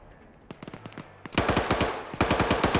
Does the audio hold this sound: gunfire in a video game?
yes